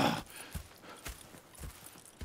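Horses walking in Red Dead Redemption 2, a series of hoof clip-clops at a steady pace, each landing as a short thud, close and moderately loud with no talk.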